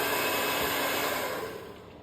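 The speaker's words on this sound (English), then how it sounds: "You can put the hairdryer across it" A hairdryer blows warm air onto fuel tank liner chemical while fitting a petrol tank liner, a loud, steady whooshing hum that fades somewhat toward the end; no talking.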